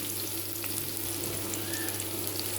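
Steady, even sizzling of marinated chicken frying in a hot pan, close by, with no talking.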